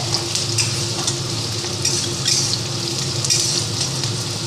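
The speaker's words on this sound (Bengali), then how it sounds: "আমি এখন পেঁয়াজ আর গোটা গরম মশলাটাকে ভালো করে ভেজে নেব" Onion and whole garam masala frying in a pan, a steady broadband sizzle with faint stirring scrapes, continuous and close for several seconds with no talk.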